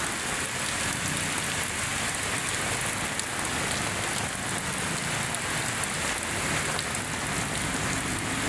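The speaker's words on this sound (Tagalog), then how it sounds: "It's raining today." Steady rain falling on surfaces outdoors by Manila Bay, a dense, even hiss of drops that continues unbroken at moderate level with no voices.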